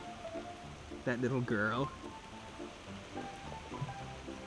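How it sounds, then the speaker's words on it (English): Steady rain downpour in the woods along a rail-trail bikeway: a continuous faint patter and hiss throughout, with a voice talking briefly over it. "it's turned into a nice little downpour out there"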